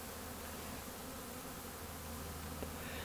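Honeybees buzz in a dense, continuous drone during a hive installation, a steady swarm hum from many insects close around without a break.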